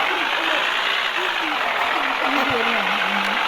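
A video game bus engine rumbles and idles steadily with a low drone, while a voice talks in Turkish over it throughout.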